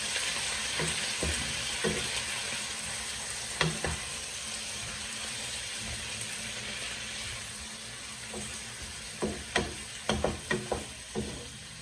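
Octopus fries in a pan while being stirred, a steady close sizzle with scattered spatula scrapes and clacks that grow busier toward the end.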